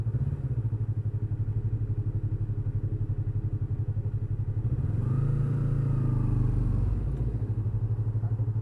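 Motorcycle engine running steadily up close at a toll gate on a coastal touring ride in Gunung Kidul, Yogyakarta, its rapid low throb continuous, then swelling briefly as it revs near the middle before settling again.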